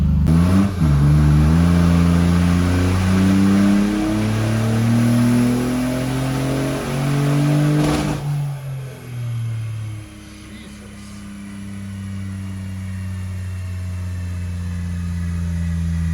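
A Smart 453 car engine running on nitrous revs up hard through a pull, its pitch climbing strongly before an abrupt break, then dropping back and building again to a steadier drone, loud and close.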